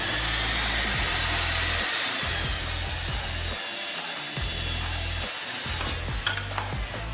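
Freud circular saw blade cutting a plywood panel, a loud continuous whining buzz with a few brief dips as the saw works through the wood, and no one talking.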